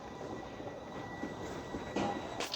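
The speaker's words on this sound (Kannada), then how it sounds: "ಟ್ರೈನ್ ಇವಾಗ ಬಂದೈತೆ, ಓಡ್ತಿದ್ದೀವಿ" A train at a station, a steady low rumble of rolling rail cars with a brief metallic squeal near the end, no talking.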